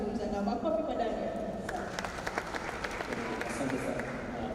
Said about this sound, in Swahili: Makofi kwa Daniel.